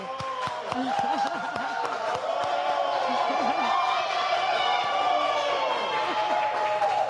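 A studio audience claps and cheers for a singer at an arts presentation and concert, a steady wash of applause lasting throughout, with a voice and whoops rising above it at moments.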